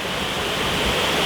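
Fast-flowing stream water rushes through Rucăr village in Romania, a loud, dense, continuous roar with no pauses or voices.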